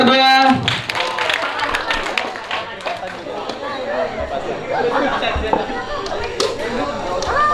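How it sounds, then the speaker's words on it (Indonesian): Audience clapping at a school MC duet event, steady applause with scattered sharp claps lasting several seconds, close and fairly loud, with chatter mixed underneath. "Tepuk tangan dong untuk mereka berdua."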